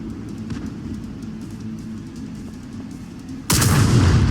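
A tank cannon fires in World of Tanks: one sudden, loud, broadband blast near the end, cutting through a steady low engine rumble and leaving a heavy, sustained roar.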